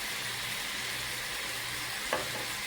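Thai-style sweet and spicy pork stir-frying in a hot pan, a steady broadband sizzle running throughout with one brief clatter of stirring near the end.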